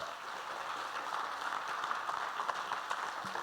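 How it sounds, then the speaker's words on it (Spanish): Church congregation claps together in a faint, distant, steady patter of applause, continuous and soft throughout. "Dale ese aplauso al Señor."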